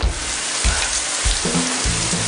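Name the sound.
heavy rain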